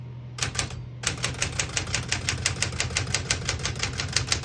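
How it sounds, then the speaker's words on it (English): Keys of a 1965 Smith-Corona Galaxie II portable typewriter strike in a steady, rapid run of sharp clacks after a brief pause, loud and close with no voice over them. "We're going to keep that on single and finish typing."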